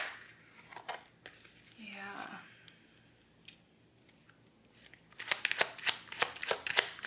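Tarot cards are shuffled by hand in crisp, rapid riffling bursts, building to a dense run of sharp card flicks near the end, with a brief low rustle in between.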